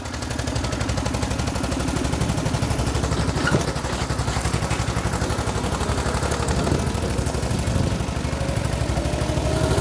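A Cushman scooter engine runs with a rapid, steady mechanical putter as it pulls away, loud and close throughout with slight clattering over the continuous drone.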